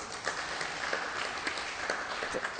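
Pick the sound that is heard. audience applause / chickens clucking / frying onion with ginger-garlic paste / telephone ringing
audience applause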